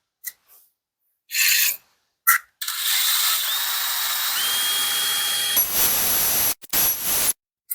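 A Parkside tile drill bit grinds steadily through hard tile with a high, raspy whine, starting after a few short bursts and ending with brief spurts.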